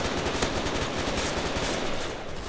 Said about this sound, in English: machine gunner.